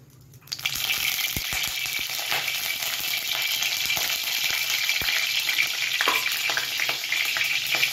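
Mahurali fish, coated in turmeric and salt, frying in hot mustard oil in a kadai: loud, dense sizzling that bursts in suddenly and holds steady, with occasional sharper pops and crackles.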